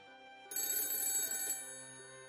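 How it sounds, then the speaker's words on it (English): A cell phone resting on a table rings with one bright electronic burst of about a second, loud and close, fading into a quiet room tone with no talking. "my cell phone, sitting on the table, started ringing"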